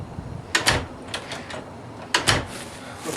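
A front door is opened and then shut, producing two main clattering thumps a couple of seconds apart, with light rattles of the latch and frame between them.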